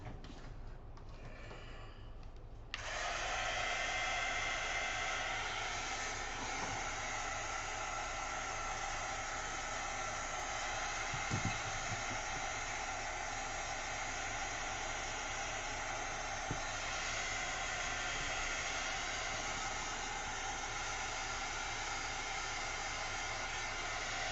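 A hair dryer blows over paint-soaked tissue paper, switching on after a few seconds of quiet and then running as a loud, steady whoosh with no pauses.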